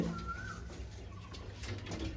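A Madras pigeon, a high-quality male, coos softly nearby, a low throaty rolling call repeating under faint background hum.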